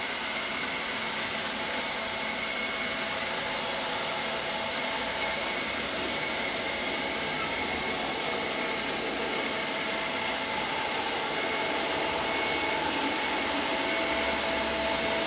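Chuwi ILIFE V5S robot vacuum cleaner running steadily with a continuous broadband whir and a faint high tone, heard alone without pauses.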